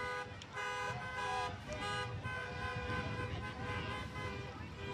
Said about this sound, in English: This is a point in time when you get honked at is good.